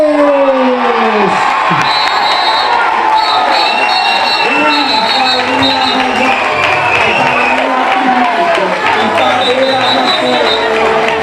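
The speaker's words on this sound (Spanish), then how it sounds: "imos a prepararnos para darles un aplauso muy fuerte" A large crowd at an Antroido carnival award ceremony in As Pontes applauds and cheers for the winning school group, with loud sustained clapping, whoops and shouts, and an amplified announcer's voice carrying over the noise.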